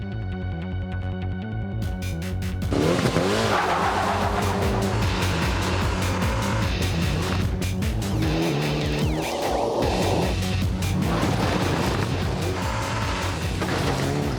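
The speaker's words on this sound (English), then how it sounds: "this is a Group N Mitsubishi Evo 7." A Group N Mitsubishi Evo 7 rally car, four-wheel drive and just over 1,000 kg, revs hard and roars up close, gears shifting as it accelerates, with tires scrabbling over loose ground.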